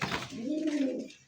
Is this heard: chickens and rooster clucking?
no